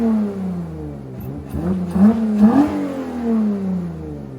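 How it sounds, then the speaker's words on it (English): A V6 Dodge Charger engine revs close up, its intake burbling and crackling as it climbs through several rising blips, then settles back to a rumbling idle. "I was not expecting it to burble."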